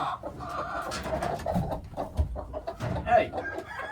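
Orpington hens in nesting boxes cluck and squawk in restless, uneven bursts close by, with a person talking over them.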